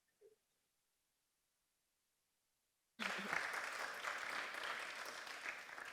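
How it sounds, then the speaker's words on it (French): Applause breaks out abruptly from an audience at an entrepreneurs' speed-dating event, a dense, steady wash of clapping that runs on loud and unbroken after near silence. "mais les gens, ils ont applaudi"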